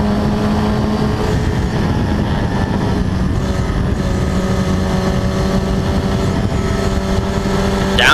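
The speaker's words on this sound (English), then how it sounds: "He's following Chris Sharples, turning through Bombhole and down towards Coram Curve" Historic Formula Ford race cars lap the Snetterton circuit, heard as a steady, loud engine drone with a sustained buzzing whine that climbs in pitch toward the end, continuous and close as if on board.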